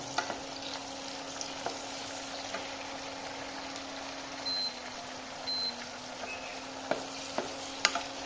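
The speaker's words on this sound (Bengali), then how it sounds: "পেঁয়াজ এবং রসুন আর তেজপাতা দিয়ে দিলাম। এখন হচ্ছে নাড়াইতে হবে।" Onion, garlic and bay leaves frying in a pan for a pigeon curry, a low steady sizzle with occasional spatula scrapes and taps, plus a couple of short electronic beeps in the background.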